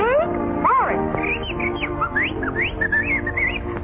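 Little birds chirping and tweeting deep in a forest, a rapid string of bright whistled calls and trills layered over a busy backing of orchestral music, fairly loud and continuous throughout.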